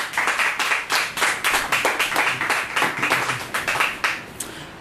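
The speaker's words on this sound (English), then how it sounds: "Please give him a welcome and a round of applause." An audience at a poetry evening in an art gallery claps steadily and closely for a few seconds, a dense patter of many hands that tapers slightly at the end.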